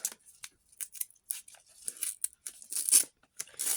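Paper surprise packages being torn open by hand, a run of close, crisp ripping and crinkling bursts in irregular rhythm, heard alone without talk.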